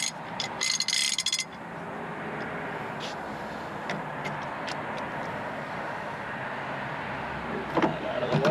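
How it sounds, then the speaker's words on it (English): Wrench ratcheting on the harmonic balancer bolt of a 2005 Ford Sport Trac, a run of close, rapid metallic clicks with a few sharper clacks over a steady mechanical background. "we will go back with the gland wrench"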